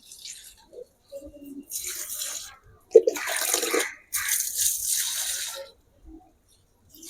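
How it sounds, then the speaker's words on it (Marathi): Water splashes and pours in a few short bursts, fairly close, with quiet pauses and a faint voice between them. "पानी डाल के लेता हूँ"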